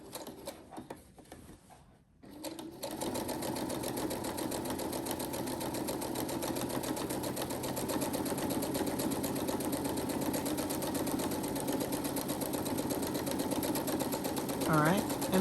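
A sewing machine stitches a fabric basket, starting after a short pause and then running in a long, steady, close mechanical whir, with someone talking over the stitching at times.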